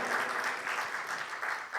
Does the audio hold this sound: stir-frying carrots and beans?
no